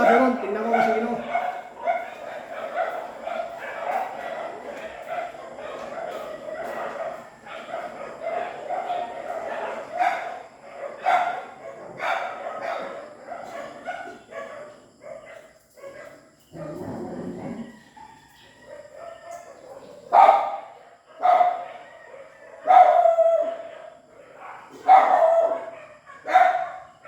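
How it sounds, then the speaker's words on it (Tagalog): Dogs bark and yip in a scuffle outdoors. Dense barking runs through the first half, then loud, close, separate barks come in bursts near the end, while people talk. "Baka may away na mga aso ron."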